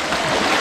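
River water flows past on an outdoor trail-running course in Ocoyoacac, State of Mexico, a loud, close, continuous rushing wash with no speech.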